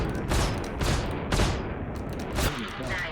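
Spaceship explosions in the space combat game Star Citizen, several loud booming blasts with crackling debris in quick succession over steady engine rumble, mixed with faint talking.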